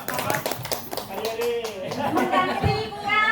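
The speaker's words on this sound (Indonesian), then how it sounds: "Tepuk tangan." Applause from teachers and participants at an Indonesian school positive-culture dissemination session, with many hands clapping at once under and between spoken Indonesian voices, steady and moderately loud.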